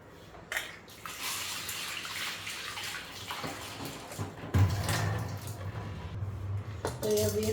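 Chana dal rinsed under a running kitchen tap, water splashing steadily with brief clatters of grains and a pot near the sink, close and fairly loud.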